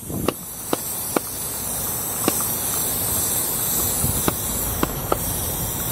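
A hand pump inflating a party balloon, a steady airy hiss up close with a few sharp clicks of the pump strokes at irregular intervals.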